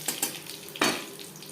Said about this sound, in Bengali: পনেরো কুড়ি সেকেন্ড তেজপাতা জিরে ভেজে নেওয়ার পর